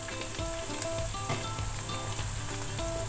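Fresh cream sizzling and bubbling steadily in a hot pan of pepper sauce for a steak sandwich, a dense, even crackle close up with faint stirring clinks underneath.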